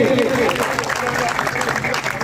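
Crowd at a village honour ceremony for martyrs applauding a young writer, continuous clapping mixed with a voice and background chatter, moderately loud and steady throughout.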